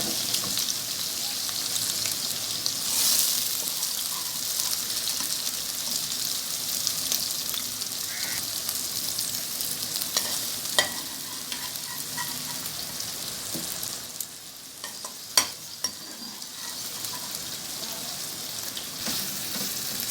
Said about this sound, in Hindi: अब इसमें हम अपनी फ्राइड भिंडी ऐड करेंगे। तमाम भिंडी जिसको हमने अच्छे से फ्राई कर लिया है वो भी इस मसाले में जाएगी।